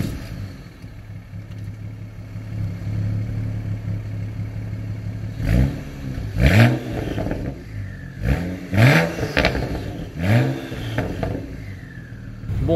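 BMW E92 335i with a 450 hp tune and full straight-pipe exhaust, idling with a steady low rumble before several sharp, loud revs that flare and fall back in a row, echoing in an open car park.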